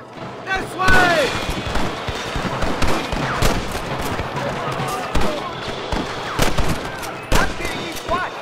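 Rapid bursts of gunfire in Red Dead Redemption, a western shootout against rustler guards, with loud close shots and volleys crackling in quick succession while shouting voices carry over the fight.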